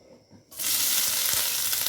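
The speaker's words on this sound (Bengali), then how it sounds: "এবার আমি সয়াবিনটাকে ভেজে নেব।" Soybean chunks drop into hot oil in a pan, setting off a sudden loud sizzle after a brief quiet moment, and the hiss then holds steady and close.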